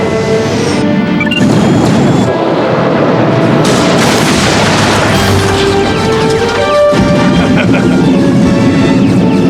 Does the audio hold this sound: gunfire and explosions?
yes